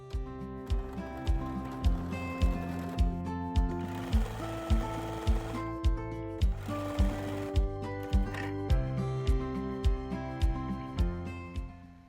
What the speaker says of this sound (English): continue stitching all the way down the facing